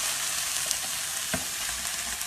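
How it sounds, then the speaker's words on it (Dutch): Cod fillet sizzles steadily in a hot pan, a continuous close frying hiss with a brief louder crackle partway through and no talking. "Dus daarom bakken we hem wel even aan twee kanten."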